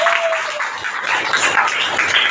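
A crowd at a Safe Shop training event in Shahdol district, Madhya Pradesh, gives loud, dense, continuous applause from start to finish, many hands clapping at once close to the microphone.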